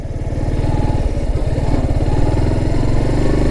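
A motorcycle runs along a village road on Majuli in Assam, its engine a loud, close, pulsing rumble with a steady throb and slight clatter that holds throughout without pause.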